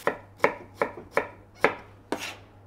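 Six evenly spaced knife chops cutting onion and tomatoes into large cubes, crisp and close with no talk.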